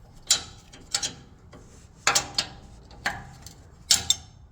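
A ratchet wrench working tow hook bolts loose on a Toyota pickup, sharp clicking bursts in short repeated strokes, close and loud with pauses between.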